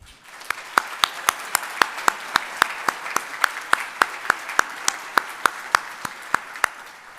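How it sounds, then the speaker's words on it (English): Audience applauding award recipients at a community awards ceremony, heard as a steady wash of clapping with sharp, evenly spaced accents standing out, sustained throughout at moderate loudness with no speech. "Now may we all applaud them."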